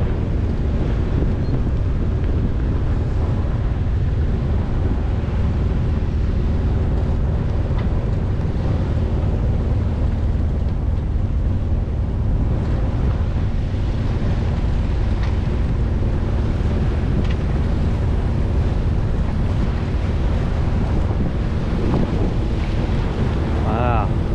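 Strong tidal current and choppy waves at Dodd Narrows at maximum tide surge around a boat, a constant loud rush of water mixed with heavy wind buffeting.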